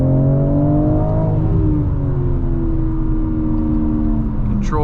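BMW M4 Competition coupe engine pulling hard under acceleration, its rising harmonic tone climbing and settling after a gear change, loud and close from inside the cabin, with a brief high chirp near the end.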